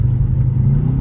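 A manual-transmission car engine revs up ahead of a gear change, a steady, close, low rumbling drone with no break, heard alone.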